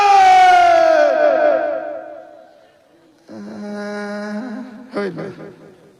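At a Bengali Islamic sermon gathering, a large crowd chants Allahu Akbar in unison in answer to a takbir call. Two loud, drawn-out collective shouts each swell and then trail off, with a short quiet gap between them.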